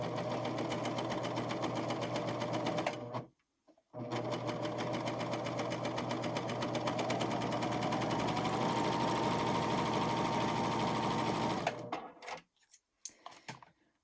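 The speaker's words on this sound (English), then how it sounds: "And then I'm going to start serging here." An overlock serger fitted with a blind hem foot stitches along fabric, a loud, steady mechanical whir running for about three seconds, pausing briefly, then continuing for about eight more before stopping with a few small clicks.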